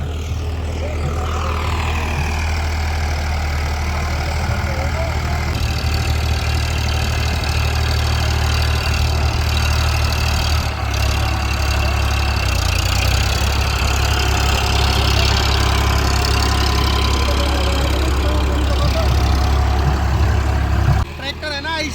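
Swaraj and Eicher tractors run at a field demonstration before a large crowd. Their loud, continuous low engine drone holds steady throughout, with voices mixed in beneath it.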